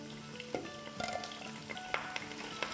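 Potato pieces frying in oil in a new blue pot, with a soft, continuous sizzle and scattered sharp pops and clinks of a utensil stirring, at moderate level with no talk.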